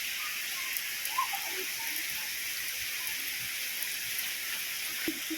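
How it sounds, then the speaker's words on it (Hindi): Rain falls on a village rooftop as a steady, even patter with occasional distinct drops, continuing at moderate strength throughout. "अभी तो धीमी हो गई है बारिश"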